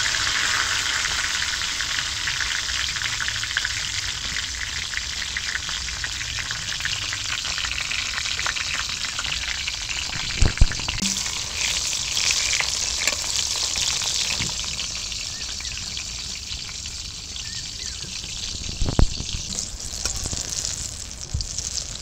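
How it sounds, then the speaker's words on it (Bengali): Eggplant pieces frying in hot oil, a continuous loud sizzle and crackle throughout with a couple of brief clanks of a utensil stirring in the pan. "এবার বেগুনগুলো ভাজবো।"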